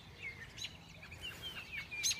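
Many birds chirp outdoors around a nest of baby birds, with repeated short bright tweets and calls scattered irregularly over a faint background, some close and some farther off.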